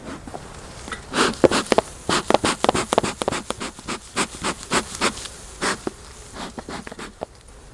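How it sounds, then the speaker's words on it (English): Honeybees at an open hive during an inspection produce loud buzzing in repeated bursts, as individual bees dart close past the microphone with short, intense swells and dips. "A lot of bees here."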